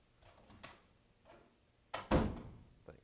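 Door being closed indoors, a few faint bumps and rattles followed by a sharper thud and latch sound near the end, with no talk.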